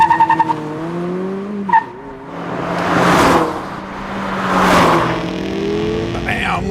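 A fourth-generation Mazda Miata revs hard up to its rev limiter, the loud engine note rising and surging in two long sweeps with a brief tire squeal, close by and with no talk over it.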